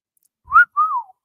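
Two clear whistled notes from one person, close and alone: a short rising note, then a longer tone that slides downward.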